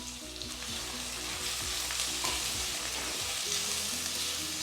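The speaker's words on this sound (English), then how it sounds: "We have to fry until it is golden color." Chopped shallots fry with crushed ginger and garlic in a pan, giving a steady, close sizzle with faint stirring scrapes throughout.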